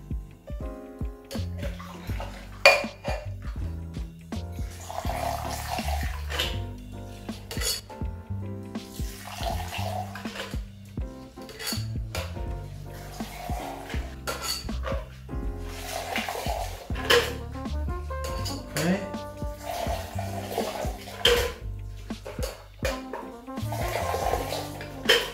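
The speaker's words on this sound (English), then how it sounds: "We're going to put our drink from one shaker to the other to get a reaction to the drink." A whiskey-based High Society cocktail is poured back and forth between two cocktail shakers, making a continuous splashing, sloshing pour with repeated surges that carry on steadily for the whole stretch, with no talking.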